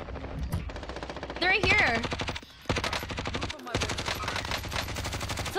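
Rapid automatic gunfire during a Call of Duty: Warzone match, loud continuous bursts with short breaks, while players talk over it.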